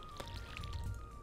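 Crops being watered in the farming video game Stardew Valley: a soft, quiet pouring splash lasting about a second, with a faint low rumble underneath.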